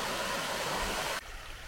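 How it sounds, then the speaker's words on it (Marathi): Stream water flowing along a channel in the Konkan countryside that feeds Padekap waterfall near Kankavli, a dense steady rushing wash that drops abruptly quieter near the end, with no voices. "हे वाहतं पाणी हा पुढे जाऊन तिकडे पडेकाप धबधब्यामध्ये कन्वर्ट होतो"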